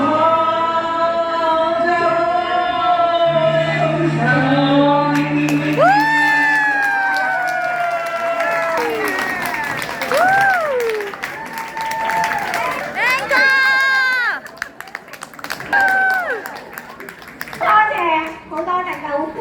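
Applause and cheering from a stage audience after a dance performance, crowd clapping and shouts with children's voices mixed under sustained singing and music throughout.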